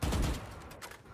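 Gunfire from a video game shooting range rings out in a loud opening burst, then trails into a fainter, ragged tail of rattling reports.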